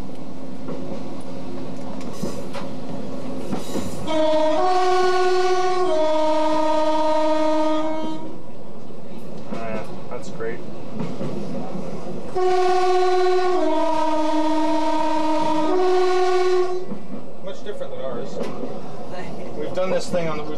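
A diesel railcar's multi-tone whistle sounds two long chord blasts a few seconds apart ahead of a station, over the low rumble and clatter of the moving train, with brief talk in between.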